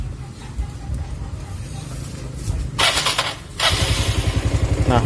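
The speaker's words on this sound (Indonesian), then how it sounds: "Nah untuk sekarang udah hidup ya, cuma suara mesinnya agak kasar teman-teman" A Yamaha Mio Sporty motorcycle engine, under major service, fires up and runs with a rough, uneven idle, its throttle blips rising in loudness toward the end, with faint talk in the background.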